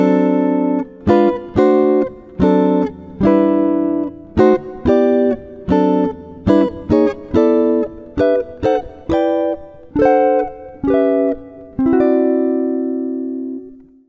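Jazz guitar playing a chord melody passage with scalewise approach notes, a steady run of plucked chords in a moderate rhythm with short gaps between them, ending on a long sustained chord that rings out, heard solo with no talking.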